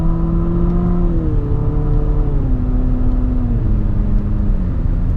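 A 2019 Infiniti QX50 shifts up through its gears under paddle-shifter control, a steady close engine drone whose pitch climbs, drops at each shift, then climbs again, repeating several times.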